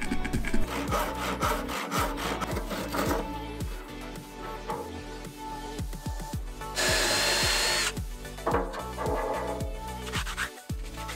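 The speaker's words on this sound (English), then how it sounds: "Now everything is cut, sanded and drilled" Wooden frame parts cut from 2x1 timber are sawn, sanded and drilled in turn, with rhythmic rasping saw strokes, a long steady whine of a drill or sander and more scraping strokes, all close and loud without talk.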